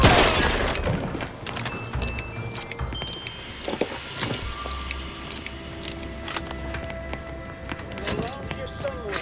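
Gunfire during a combat scene in The Outer Worlds 2 video game, repeated sharp shots and bursts over a rumbling background, with voices calling out between them.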